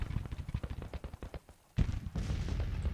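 Artillery and gunfire in a Civil War strategy game: a rapid run of sharp, loud shots and thuds for about a second and a half, a brief lull, then a heavy boom leading into sustained rumbling fire.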